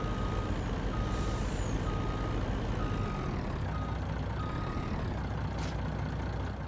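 Truck in the Farming Simulator video game backing up to hook onto a trailer, its reversing beeps sounding as steady evenly spaced tones over a constant engine drone, with a brief hiss like an air brake near the end.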